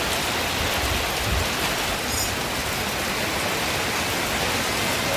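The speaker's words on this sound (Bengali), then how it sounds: "প্রচুর জোরে বৃষ্টি হচ্ছে" Heavy rain pours down in a dense, constant hiss that fills the whole clip without letup, loud and close.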